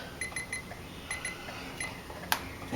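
Turn signal chime on a 2012 Ford Escape, a faint, evenly spaced series of high electronic beeps repeating in a steady rhythm, with a sharper click near the end.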